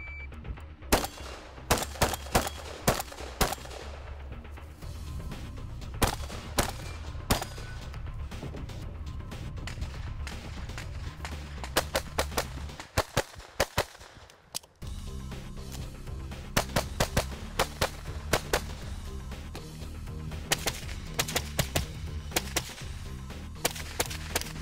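Gunfire at a shooting match during a rainy competition stage: dozens of sharp, loud shots in rapid strings, fired close by with brief pauses between bursts, over steady background noise and no talking.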